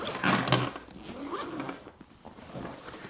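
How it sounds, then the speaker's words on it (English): Two zippers being pulled open on the clamshell main compartment of a Bellroy Transit Pro 30L-38L travel backpack, a close, rasping run of zipper teeth lasting a few seconds with no talk. "So we'll open up these two zippers here."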